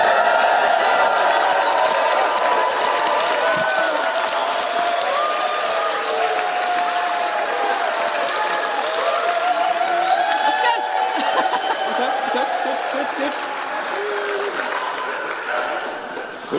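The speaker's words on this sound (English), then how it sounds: "So, can we have a cheer for Cliff?" A large festival audience at a retro-style PowerPoint Karaoke session at EMF2024 claps and cheers steadily, a dense, loud wash of applause with shouts and whoops that holds for about sixteen seconds and eases slightly near the end.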